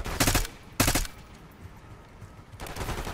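In the Call of Duty Black Ops 6 video game, automatic gunfire rattles out in three loud, close bursts separated by brief pauses.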